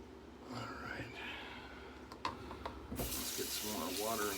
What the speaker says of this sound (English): let's get some more water in this brush and build up this lather some more.